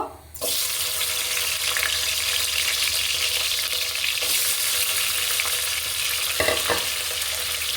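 Sliced onions fry in hot oil for khichuri with meat, a loud continuous sizzle after a brief quiet start, broken by a couple of clinks and stirring knocks near the end.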